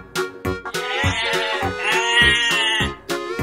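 Several sheep bleat in a quick series of short, close, wavering calls, one longer drawn-out bleat in the middle, with no talking.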